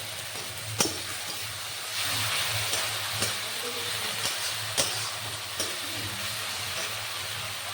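Ground spice paste sizzles steadily as it fries in hot oil, a loud continuous hiss broken by a few sharp clicks of a spoon against the pan.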